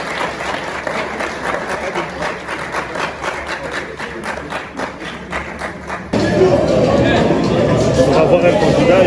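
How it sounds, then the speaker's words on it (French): Steady crowd applause at a press briefing, a dense patter of many hands clapping that swells louder near the end. "On applaudit encore très fort."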